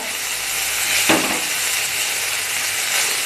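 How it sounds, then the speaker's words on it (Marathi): Sliced onions sauté in a pan over medium flame, browning lightly for a paneer roll filling, giving a steady close sizzle with one brief louder stir near the middle and no talking. "आपल्याला कांदा सुद्धा हा हलक्या ब्राऊन रंगापर्यंत परतून घ्यायचा आहे हलवायचा आहे"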